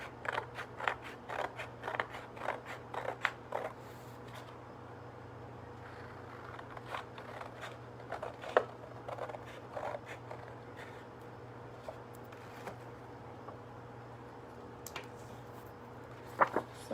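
Scissors snip steadily through paper or card while cutting out a craft crown along a drawn line, with crisp close clicks in irregular clusters and quieter pauses between runs of cuts.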